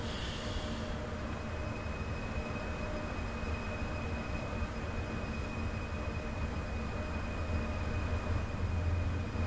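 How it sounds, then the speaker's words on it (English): Train ride on the high-speed line between Kassel and Würzburg in Train Sim World 3, heard from inside the carriage as a steady, even rumble of wheels and running noise with a faint high whine throughout. "Ooh, I'm on a train."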